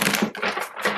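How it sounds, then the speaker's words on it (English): A deck of Aquarian Tarot cards is shuffled by hand, giving quick riffling, papery flutters in three short bursts over a second, close and clear with no speech. "So tune in with me while I shuffle."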